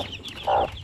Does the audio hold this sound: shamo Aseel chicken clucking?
yes